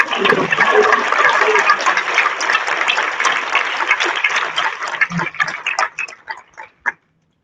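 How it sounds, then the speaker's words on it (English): Audience applause for honorees at a survivorship celebration, a dense crowd clapping that holds steady for several seconds and then thins into scattered claps before ending. "One more round of applause for our honorees."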